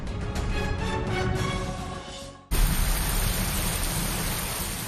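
Rain mixed with hail pours down in Karauli, Rajasthan, a dense steady hiss of falling water with patter on surfaces, briefly rougher with rhythmic ticks, then a louder continuous downpour.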